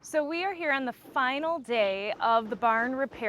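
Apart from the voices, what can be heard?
No everyday noises stand out.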